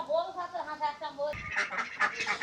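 A pair of white domestic ducks give a run of nasal quacks nearby, followed by rougher, noisier calls and rustling in the final second.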